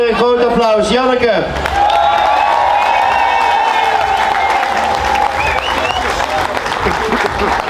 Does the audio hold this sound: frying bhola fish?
no